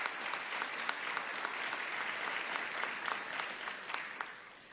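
An audience at a Veterans Day program applauds veterans with dense, sustained clapping from a large crowd, even and moderately loud throughout with a few sharper claps standing out.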